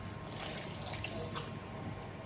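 Water pours into a pot of chilli con carne being cooked with a seasoning packet, a steady splashing, trickling wash that runs close and continuous without speech.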